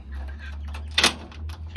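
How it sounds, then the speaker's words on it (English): A new screen door is locked, giving a soft scrape and then one sharp metallic latch click midway. A low steady hum runs underneath, and faint rustling follows. "Okay, so now the door is locked."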